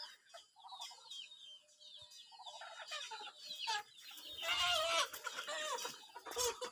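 Chickens cluck and a rooster crows on a small Lao farm where ducks are penned and a hen sits on eggs, the calls fairly close and overlapping, with brief voices in the background.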